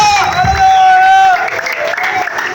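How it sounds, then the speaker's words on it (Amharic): A church congregation claps and cheers in praise of God, a loud, dense crowd roar with a sustained high voice ringing over it, steady across the whole stretch. "ለእግዚአብሔር ጭብጨባ ይገባዋል።"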